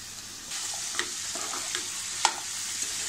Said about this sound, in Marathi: थोडी परतून घेऊया छान अशी.